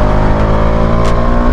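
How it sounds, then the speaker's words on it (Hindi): Bajaj Dominar 400 motorcycle accelerating hard, its engine note loud and close, with dense steady harmonics held throughout and no speech over it. "बाइक भाग रही है।"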